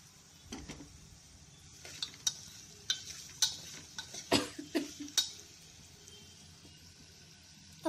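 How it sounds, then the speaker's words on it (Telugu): Spices fry in a pan as a pinch of turmeric goes in, with a quiet sizzle under a series of light, close spoon taps and scrapes against the pan. "1 చిటికెడు పసుపు వేసుకుందాము."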